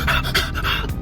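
Heavy, rapid panting breaths in quick rhythmic bursts, loud and close to the microphone, with no talking.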